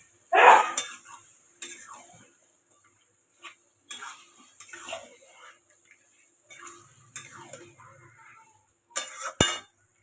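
Marinated mutton and spices are stirred in a pot: intermittent scraping and clinking of a spoon against metal, separated by quiet pauses, with a sharp clatter near the end.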